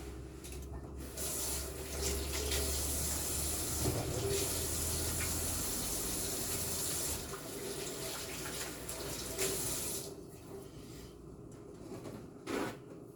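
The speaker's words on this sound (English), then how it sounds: "And I'm going to wash my hands." A kitchen tap runs in a steady close hiss and splash as hands are washed beneath it, the flow cutting off near the end, followed by a couple of faint knocks.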